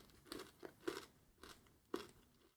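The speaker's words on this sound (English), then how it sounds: "as you can probably hear, a very crisp sugar shell" Four or five crisp crunches, close and fairly quiet, as the sugar-shelled Nestle Milkybar mini eggs are bitten and chewed, spaced irregularly over a couple of seconds with no talk.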